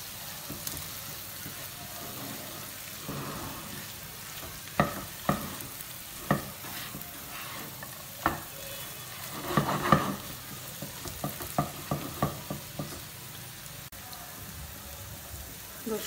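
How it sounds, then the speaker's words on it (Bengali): Loitta dried fish bhaji fries in a pan with a soft, steady sizzle under intermittent stirring scrapes and knocks that cluster in the middle and later part, heard close without talking. "দুই থেকে তিন মিনিট নাড়াচাড়া করে এখন আমরা ধনিয়া পাতা দিয়ে নামিয়ে ফেলবো আমাদের আজকের মজাদার শুটকি ভুনা।"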